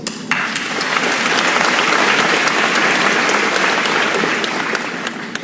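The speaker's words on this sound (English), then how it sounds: "So how about a round of applause?" A graduation ceremony audience breaks into loud, sustained applause after a cue from the salutatorian, with dense clapping and a few sharp individual claps standing out.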